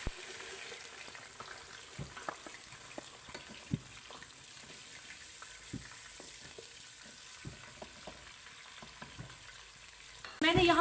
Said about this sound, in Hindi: प्याज के पेस्ट को हम जब तक फ्राई करेंगे कि ये गोल्डन ब्राउन ना हो जाए